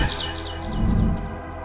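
A bird in the Garten of Banban 6 video game gives a quick run of high chirps and tweets, a few sharp repeated notes over a low background hum.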